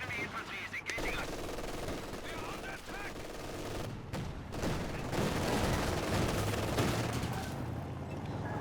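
Machine gun and armored car fire in Company of Heroes 2, with 222 scout cars driving around and shooting: sustained rapid gunfire bursts and crackling battle noise, loud and continuous for the whole stretch, with no speech over it.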